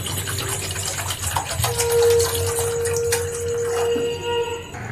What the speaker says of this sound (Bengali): গ্যাসটা অন করে জল দিয়ে দিলাম